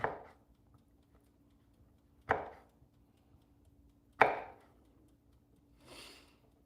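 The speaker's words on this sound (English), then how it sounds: "So we'll just take this, let's cut it into slices." A knife cuts a homemade pepperoni pizza into slices. Three crisp, separate chopping thuds land about two seconds apart on a quiet background, followed by a softer scraping sound.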